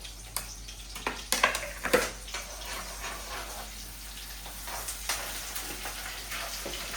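Onions for a crab curry sizzle and crackle in a hot pan, a soft continuous frying hiss broken by sharper pops and clatters from stirring.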